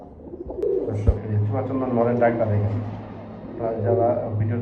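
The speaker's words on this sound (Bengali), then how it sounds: "এই যে দেখেন প্রচুর ডাকে প্রচুর দামাসিন" Damascene pigeons for sale coo repeatedly in low, throaty calls close by, with someone talking over them throughout.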